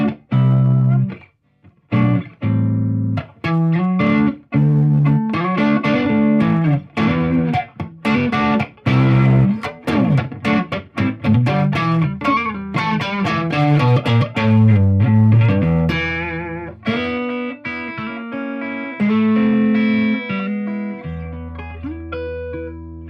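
Electric guitar played through a tweed-style amp with reverb, mixing ringing chords and quick single-note runs that sustain with a washy tail, loud and close throughout without any talking.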